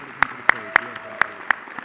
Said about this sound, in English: So can we please give her a round of applause